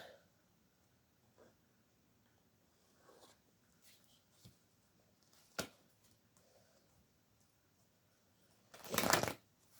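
A deck of tarot cards is shuffled and cut at a spontaneous get-together, heard as soft scattered card riffles and taps with one loud close riffle near the end, without talk.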